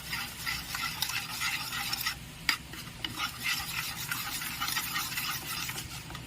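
Rice mixed with turmeric being stirred in a pot for basanti polao, a continuous scraping, rustling stir with one sharp knock partway through, close and moderately quiet.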